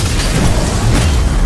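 A heavy, rumbling boom from a rocket explosion in Call of Duty: Black Ops Cold War fills the clip, loud and sustained with a dense low roar.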